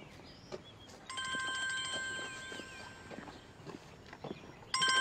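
A telephone rings in a home, a tonal electronic chime starting about a second in and holding for a couple of seconds, then returning at the end, faint under light room noise and footsteps.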